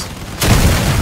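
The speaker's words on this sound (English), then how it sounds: "I can use my epic missile against them." A missile explosion in the vehicle-combat game Crossout: a quiet stretch, then a sudden loud, deep boom with a long rumbling tail that fills the rest of the moment.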